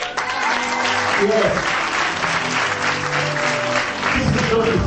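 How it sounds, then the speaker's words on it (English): Audience at a charity day in Nigeria breaks into applause, a moderate sustained patter of clapping with a voice briefly speaking over it. "I think you're going to clap."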